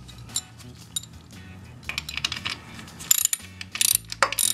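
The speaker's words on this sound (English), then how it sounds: "I'm going to take my ratchet. I'm going to go ahead and get this thing snugged up." Ratchet wrench snugging the oil drain bolt on a Royal Enfield Continental GT 650 motorcycle, a series of close, sharp clicking bursts that grow louder and denser toward the end.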